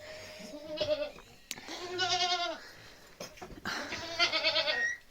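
A goat bleats close by in three or four drawn-out, wavering calls separated by short pauses, loud and clear with no talking.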